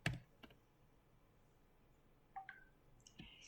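Quiet computer keyboard typing: a few scattered key clicks, with sparse taps at the start and a small cluster near the end, against a low, still room background.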